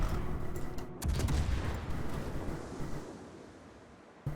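A warship's guns fire high-explosive shells in a naval battle game, a heavy blast at about one second sending a deep rumble that slowly fades, with a faint distant crack at the end.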